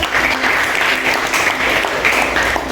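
Loud, close applause from a class of schoolchildren in a classroom lesson, brisk steady clapping throughout with a faint voice underneath.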